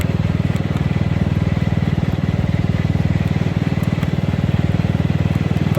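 A riding lawnmower's engine runs steadily up close, a loud, even, rapidly pulsing putter that holds throughout without any talking.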